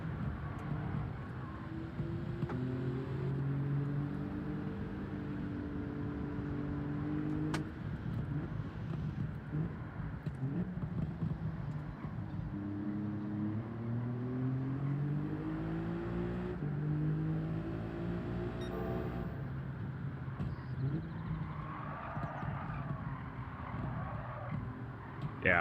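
A car in the Gran Turismo 7 racing game drones and revs through gear changes with engine pitch rising and falling, a steady synthetic motor note with tire slide noise throughout.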